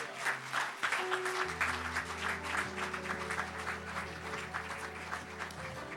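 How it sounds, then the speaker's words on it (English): Steady applause from a church conference congregation, dense clapping sustained throughout with a low musical hum underneath. "give him a wonderful hand of applause"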